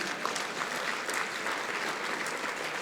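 Steady applause from an annual dinner audience, dense and even clapping that holds at the same level throughout, no voices standing out.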